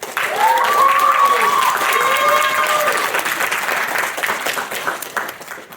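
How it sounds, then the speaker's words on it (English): A comedy-society audience at a live Taskmaster-style contest breaks into loud, sustained applause, steady clapping that fills the room, with shouts and whoops riding over it before slowly thinning out toward the end. "Can we get a huge round of applause for Bill?"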